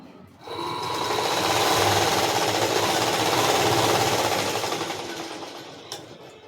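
Sewing machine stitching the side seams of a Patiala pant runs in one fast, continuous rattling burst of several seconds, close and loud, then stops with a small clack; no talking.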